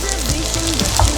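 Green onions frying in a hot pan as they start to burn, a steady close sizzle with a brief clatter near the end, no talking.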